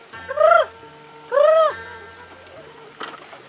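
Two drawn-out, wavering chicken calls, close and loud, with a short pause between them, then quieter rustling.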